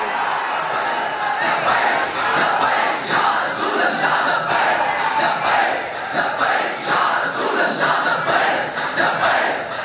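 A mosque crowd chants Labbaik slogans in unison, rising and falling in loud rhythmic waves of many voices, with a roomy, reverberant sound throughout.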